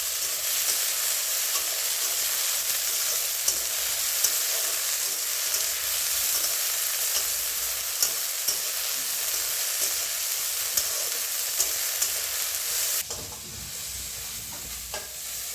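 Chillies and garlic leaves fry in a pan with a dense, steady sizzle and hiss, occasional stirring clicks breaking through, before the frying noise drops away abruptly near the end; no one speaks.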